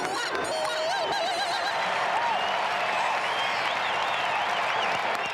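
A large baseball stadium crowd cheers in a dense, steady roar, with whistles and shouts rising above it, loud and continuous throughout.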